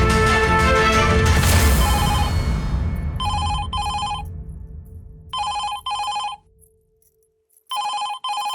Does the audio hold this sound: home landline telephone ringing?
yes